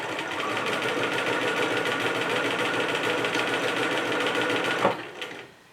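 A sewing machine runs steadily, stitching fabric for a heart-shaped Valentine's bag, a close, even whirring rattle for about five seconds before stopping with a soft clunk.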